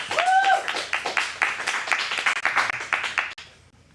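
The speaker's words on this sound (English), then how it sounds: "a big round of applause for Addictions Anonymous" An audience claps and cheers at an adult acting studio script showcase in Phoenix, a steady burst of applause that fades out at the end.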